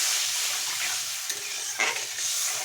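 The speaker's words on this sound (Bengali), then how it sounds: "জলটা দিয়ে আবারও সব কিছু মিশিয়ে নিলাম" Spice paste for a rohu fish jhal being stirred in a pan after water is added, with a steady bright sizzle, soft scraping strokes and a brief bubbling surge near the end, close up with no voices.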